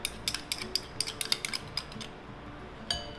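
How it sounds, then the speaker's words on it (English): A spoon clinks repeatedly against a bowl while mixing condensed milk, salt and white pepper into sandwich spread, with quick light taps in an irregular rhythm, close and fairly quiet, then a pause before one last scrape. "So you mix the white pepper and the salt and the condensed milk"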